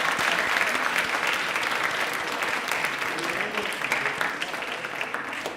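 An audience at a quiz show on Indian Railways bursts into loud, sustained applause that stays steady and fades slightly toward the end.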